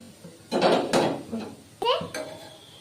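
A lid clatters onto a cooking pot while beetroot with turmeric is being cooked, with a couple of sharp metallic clanks and scraping knocks amid other kitchen clatter.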